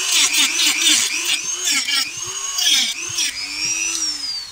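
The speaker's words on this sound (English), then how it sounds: "this has to use the Dremel" A Dremel rotary tool cuts into a plastic power adapter case, whining at high pitch with repeated bursts and wavering pitch as the bit bites and eases off, close and loud, with no talking.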